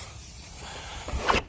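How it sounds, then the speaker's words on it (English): An air wedge bag deflates with a steady hiss while an Acura TSX door is being unlocked with the keys locked inside, ending with a short rustling burst and a brief squeak before cutting off. "deflate the bag."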